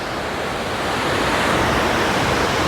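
Water pours out through the gates of the Khodiyar dam at Galdhara, a loud, constant rushing roar close by that fills the whole moment without any speech.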